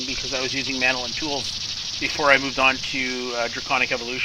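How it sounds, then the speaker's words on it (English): Cicadas from the Twilight Forest in the Minecraft video game drone with a steady, high-pitched buzzing hiss throughout, running continuously beneath someone talking. "So that noise you can hear is actually cicadas that I picked up in the Twilight Forest."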